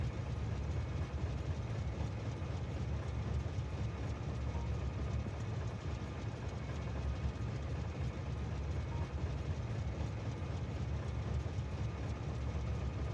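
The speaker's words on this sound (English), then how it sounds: "you can follow around the train and watch some explosions" A train in the video game Factorio rolls along its rails with a steady, continuous rumbling drone throughout.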